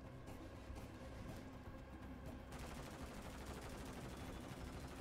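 Sustained bursts of heavy LMG fire in MW3 Zombies form a dense, continuous rattle that fills the whole stretch at a steady level, with a brief shift in texture midway.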